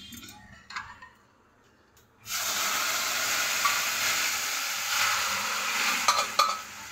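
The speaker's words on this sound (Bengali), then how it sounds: "ডালটা ঢেলে দিলাম" Biulir dal is poured into a pan of fried spices. After a near-silent start, a loud hissing sizzle bursts out suddenly and stays strong and steady, with a few clinks near the end.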